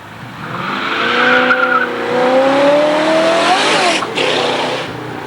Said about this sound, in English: Listen to the purr on that car.